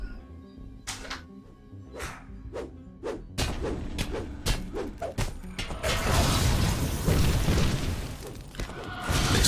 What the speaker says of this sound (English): exploding constructs are just wrecking me